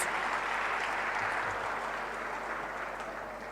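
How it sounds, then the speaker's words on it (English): An audience at a memorial lecture claps in a dense, sustained burst of applause that holds steady and then eases off slightly toward the end, with no voices over it. "Big round of applause to sir, please."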